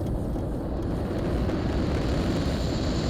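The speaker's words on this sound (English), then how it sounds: "Oh yes, we do have the helicopter mod here too." Helicopter mod in a video game, a loud, steady engine and rotor drone that holds at constant volume throughout with no voices.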